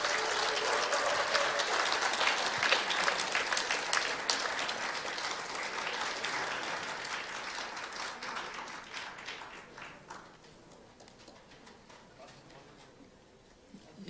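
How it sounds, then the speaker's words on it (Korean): A large crowd at a party event applauds as the final presidential candidate steps up to the stage, loud sustained clapping that gradually thins out and fades to scattered claps near the end, with voices mixed in. "큰 박수로 환영해 주십시오."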